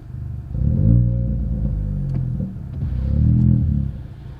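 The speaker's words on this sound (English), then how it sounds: "so there is a slight pop and bang, and that is just changing the exhaust." A Ford Fiesta Zetec S Black Edition fitted with a Cobra exhaust on a stock tune, its engine rumbling and revving in two swells with faint pops and bangs, close and fairly loud.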